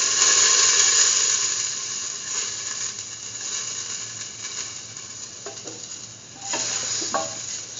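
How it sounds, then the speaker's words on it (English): Fennel seeds fry in a hot pan for a curried egg and mung bean stew, a steady close sizzle with hiss, while a few scrapes and clinks of stirring come near the end. "Now put in the fennel seed,"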